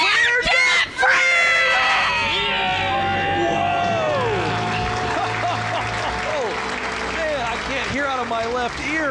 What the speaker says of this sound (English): Let's hear your debt-free scream.